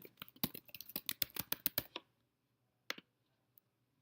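Quick bursts of computer keyboard typing for about two seconds, then a pause and two separate mouse clicks, all close and fairly quiet.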